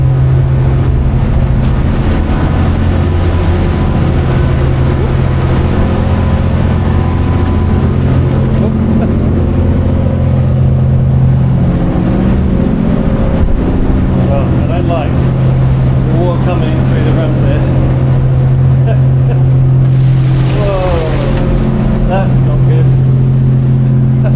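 On board a ferry crossing to a small Scottish island in rough seas, a steady low engine drone and hull rumble run throughout, loud and continuous, with a burst of wind or spray noise near the end; no talk in this stretch.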